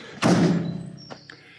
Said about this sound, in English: So I'm going to close up the doors